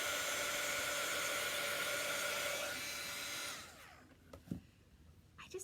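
A handheld dryer blows steadily on chalk paint on a Santa craft, a loud whirring hum that cuts off after about three and a half seconds, leaving a few soft handling taps.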